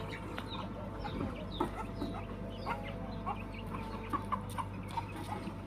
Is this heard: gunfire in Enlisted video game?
no